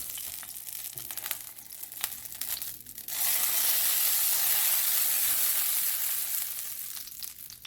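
Italian peppers blistering in hot frying oil, a loud close sizzle that surges into a dense roar partway through, with scattered pops and crackles riding over the steady hiss.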